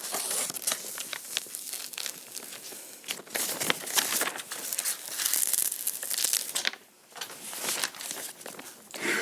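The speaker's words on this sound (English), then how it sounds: "all I'm going to do is just peel my vinyl off" Vinyl lettering peeled off its backing sheet for a family sign, a close, crackly run of tearing and crinkling that stops briefly, then resumes in uneven bursts.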